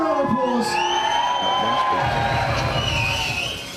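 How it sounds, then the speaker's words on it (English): Crowd at Santa Pod Raceway cheering and whooping for Miss USC, with loud yells and shouts over a steady crowd roar, a voice speaking over it. "Give her an applause."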